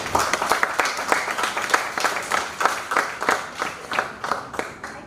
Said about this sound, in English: Let's clap for all those who made it to the final round.